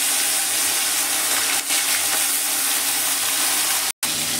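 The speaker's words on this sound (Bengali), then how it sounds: "তো বন্ধুরা দেখুন, মাছগুলো আমি গরম তেলে ছেড়ে দিয়েছি" Fish frying in hot mustard oil in a pan, a loud, dense and steady sizzle that fills the whole stretch with no talk, broken only by a brief drop near the end.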